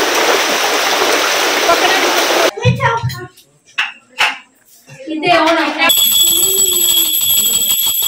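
Forest river water rushes in a steady, loud broadband wash for the first couple of seconds, then cuts to quieter mixed sounds with brief splashes, voices and a possible dog bark.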